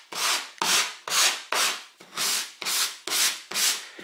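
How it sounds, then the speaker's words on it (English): Eight even, rhythmic strokes of about 150-grit sandpaper rubbing along the grain of painted wood, each a dry scratchy swish, close and clear with no voices. "take a piece of sandpaper or even a sanding sponge"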